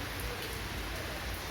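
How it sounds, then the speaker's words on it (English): Steady rain falling outside, a dense continuous hiss of drops on surfaces, even and unbroken throughout. "Right now, it is raining."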